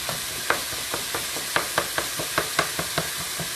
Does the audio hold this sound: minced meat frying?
yes